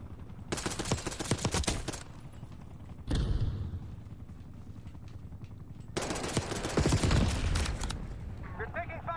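Rapid automatic gunfire bursts in a military shooter video game, loud and dense in two long volleys separated by a quieter stretch, with radio-style voice chatter at times.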